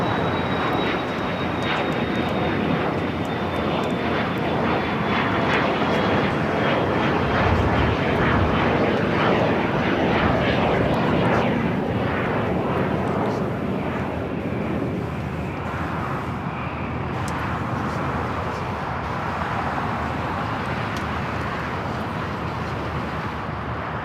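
An Airbus A380 airliner taxis at LAX, a continuous loud roar of jet engines with a faint whine drifting slightly downward, holding steady for the whole stretch with no voices.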